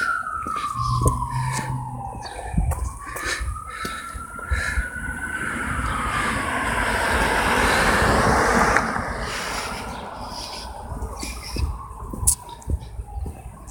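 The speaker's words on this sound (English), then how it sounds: "Nope, that's an ambulance." A wailing ambulance siren rises and falls as it passes, swelling louder mid-clip before receding, with birds chirping faintly around it.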